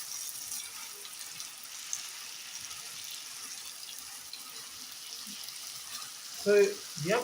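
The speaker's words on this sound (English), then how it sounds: "So you have to let them cook until this sauce reduces." Chicken wings simmering in a honey sauce in a pan make a soft, steady sizzle and bubble that stays fairly faint, with a brief louder clatter near the end.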